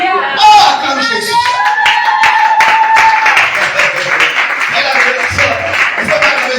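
A church congregation claps and cheers in acclaim of Jesus, a steady run of dense hand claps filling the room while voices shout and sing along at close range.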